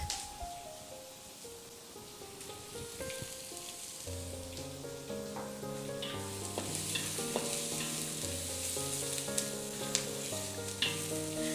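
Onions frying in a pan for chicken curry give a quiet, continuous sizzle with occasional stirring, sitting beneath louder background music that carries steady melodic notes over the whole stretch.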